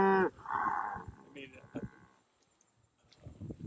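Angus cattle on a farm give a single drawn-out moo up close near the start, followed by scattered faint knocks and rustles, with a brief voice murmuring toward the end.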